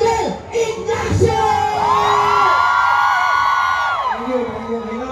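Crowd shouting and cheering loudly for Armando Ariel Ignacio at an OFW gathering in Hong Kong, sustained whoops and yells swelling across the whole stretch.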